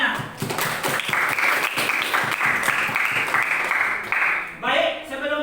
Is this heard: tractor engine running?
no